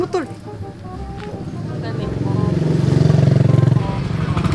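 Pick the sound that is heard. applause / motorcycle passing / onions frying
motorcycle passing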